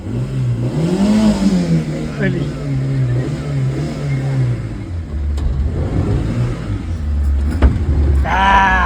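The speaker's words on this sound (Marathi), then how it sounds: "चला गाडी आपली चालू झालेली आहे" A push-started car engine catches and revs, its pitch climbing and then settling into a steady drone as the car pulls away. Voices sound nearby.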